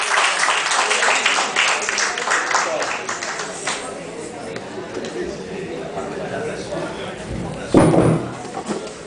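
An audience at a literary café reading applauds poets, a burst of scattered clapping that thins out, with voices chattering and a louder clatter near the end.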